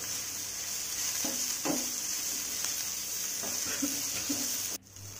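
Ivy gourd (kovakkai) sautés in a pan, giving a steady hiss and sizzle with occasional scraping strokes of a spatula, heard up close and alone, ending in a sudden clatter near the finish.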